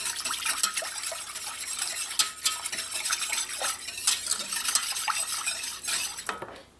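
Custard powder being whisked into cold milk for coconut ice blocks, a steady run of brisk scraping and clinking strokes against the bowl, close and continuous with no talk.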